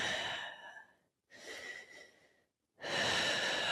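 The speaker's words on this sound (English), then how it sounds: "Try to breathe here." Slow, deep breaths during a vinyasa yoga session: three long airy breaths, each exhale followed by a brief silent pause, close and clear with no speech.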